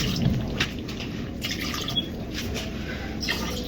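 About two and a half cups of water are poured into a pot of aloo gosht, a soft continuous trickle and splash with faint drips, steady and close throughout with no talk.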